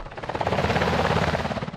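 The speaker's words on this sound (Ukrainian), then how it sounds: "Військовослужбовці 101-ї повітряно-десантної дивізії тренуються висаджуватися з вертольотів Blackhawk." A Blackhawk military helicopter used by soldiers of the 101st Airborne Division in a training exercise, its rotor thumping loud and close in a fast steady pulse with a deep engine roar.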